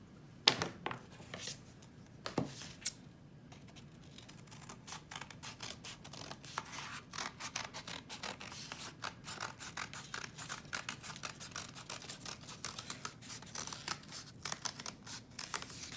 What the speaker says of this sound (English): For the next step, I'm going to cut that out with my scissors.